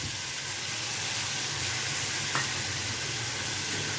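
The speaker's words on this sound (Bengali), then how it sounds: "এখন মশলাটা ভাজা ভাজা হবে।" A spice paste frying in a pan for a bottle gourd and prawn curry, giving a steady, close sizzle with one brief clink partway through and no talking.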